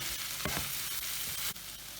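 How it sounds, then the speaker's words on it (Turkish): Potatoes and vegetables sautéing and being stirred in a pan for a carrot-potato filling, with steady broadband sizzle and a few brief scraping stir strokes, close and moderately loud, no voices. "Şimdi patateslerimi ekliyorum. Bunları da bir miktar kavuracağız"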